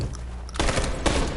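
Gunfire from the video game Detroit: Become Human, a sudden loud burst of rapid shots at about the half-second mark, then a second burst of shots, dense and close, over a steady low rumble.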